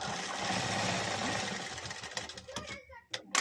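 Sewing machine running steadily while stitching decorative dori cord onto fabric, a continuous mechanical whir that sputters into short bursts and stops toward the end.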